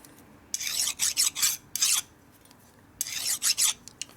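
A hand file rasps along the edge of a transmission shaft on a 1965 Harley panhead four-speed rebuild, with several short grouped strokes in two bursts separated by a pause, close and crisp.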